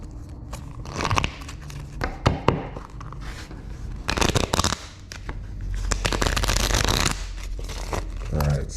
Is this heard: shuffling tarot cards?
yes